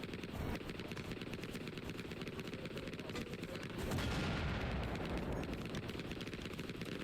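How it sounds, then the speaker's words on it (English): Mortar fire in the video game Hell Let Loose: Vietnam, rapid crackling gunfire with a heavier rumbling blast swelling midway, distant impacts landing on a wood line amid continuous battle noise. "nice shots coming in a wood line. Okay. Nice shooting by the mortar team."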